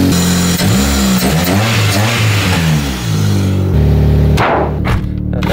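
Toyota Starlet engine revving, a loud, close car engine that rises and falls in pitch through several revs, then drops back near the end.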